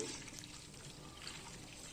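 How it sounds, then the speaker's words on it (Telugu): Hot water poured into a hot box (insulated food container): a faint, continuous trickling pour, quiet and close, without talk. "ఇలా హాట్ బాక్స్లో నిండుగా పోసేయండి చూడండి ఇలా వేడి నీళ్ళు పోసేయాలన్నమాట"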